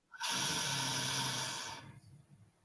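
A single long, deep inhale, close and breathy, swelling quickly and holding steady for nearly two seconds before fading into quiet.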